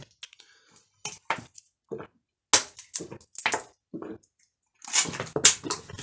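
Someone pours and sips a little water in a quiet room, with scattered soft clicks, a pouring burst and a few gulping, swallowing sounds spread across the moment, close and fairly faint.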